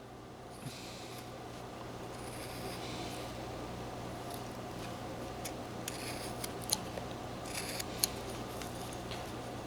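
A knife whittles a V cut into a wooden deer carving, giving faint, close scraping and a few sharp little snips over a steady low hum, with no talking.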